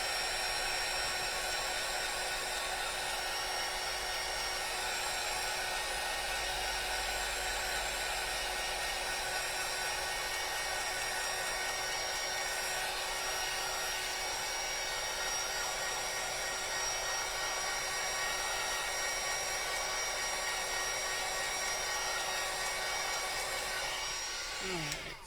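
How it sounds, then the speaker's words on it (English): Heat gun blowing steadily to dry a watercolor notecard, a loud continuous whooshing drone held close for the whole stretch, cutting off at the end. "I'm going to do my heat gun, so it's going to get loud again."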